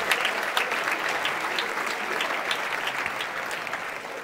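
A live audience gives a man a round of applause at a street or studio chat show: sustained, dense clapping from many people, fairly close and steady for several seconds with no talk over it.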